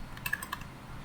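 Short burst of keys tapped on a computer keyboard, a few quick clicks close up and fairly quiet, with no talking.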